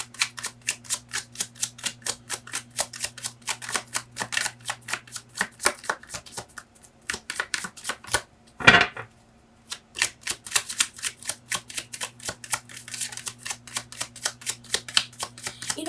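Oracle cards being riffled and shuffled by hand, a long run of quick, crisp flapping clicks close up, with one brief pause and a louder snap before the steady shuffling resumes.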